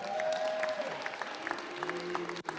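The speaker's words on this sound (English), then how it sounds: "How about a round of applause for George?" Applause from an audience at an NFL Draft handoff event honors former Packer player George Kuntz, a moderate, fairly distant clatter of clapping with faint voices and tones over it.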